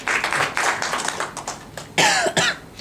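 Brief scattered clapping from a lecture hall audience, a few uneven bursts of hand claps over roughly three seconds, with a louder flurry near the end.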